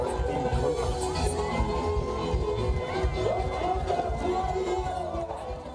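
A crowd at a praise festival cheering and shouting with joy, a dense wash of excited voices and whoops sustained at a steady, fairly loud level throughout.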